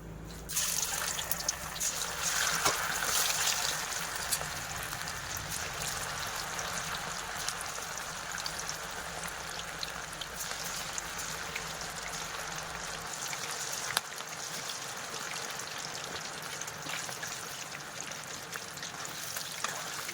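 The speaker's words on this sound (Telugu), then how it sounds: "మనం మ్యారినేట్ చేసుకున్న చికెన్ని అందులో వేసేద్దాం" Marinated chicken pakoda pieces go into hot oil and fry with a steady, close, hissing sizzle. The sizzle is loudest at first, then settles into a continuous crackle for about twenty seconds, with no voices.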